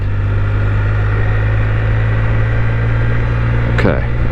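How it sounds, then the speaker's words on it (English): A Can-Am Spyder F3 three-wheeled motorcycle engine runs steadily near the microphone with a strong low hum, holding an even drone for the whole stretch under continuous wind noise. "Okay, listen to the engine."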